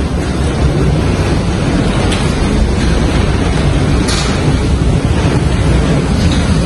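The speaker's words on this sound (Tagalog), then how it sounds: "Napakalakas ng hangin." Strong typhoon wind roars and buffets the microphone continuously, a dense, loud rush with faint sharper gusts and no speech.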